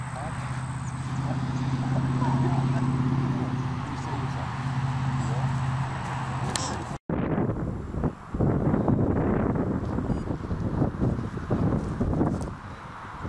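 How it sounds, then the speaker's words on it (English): Heavy wind buffets the microphone in a low, rumbling roar that lasts throughout, broken by one brief dropout partway through. "Windy, isn't it?"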